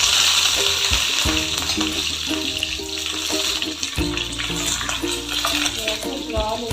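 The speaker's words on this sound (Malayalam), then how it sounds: "ഞാൻ വറ്റൽ മുളക് ഞാൻ വറുത്തെടുക്കുക" Dried red chillies fry in a little oil in a pan, a steady dense sizzle running throughout with brief stirring clatters and music playing over it.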